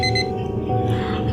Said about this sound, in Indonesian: Aku terbangun karena mendengar suara alarm di handphoneku berbunyi.